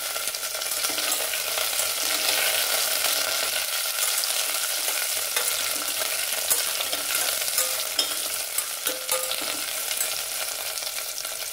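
Three tomatoes fry in a pan for a spinach-stem kootu kuzhambu, giving a loud, dense sizzle with occasional stirring scrapes and spatters, close and unbroken, no voices.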